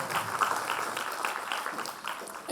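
An audience at a scholarship event gives steady, moderately loud applause to welcome a guest MLA, with a voice faintly audible underneath.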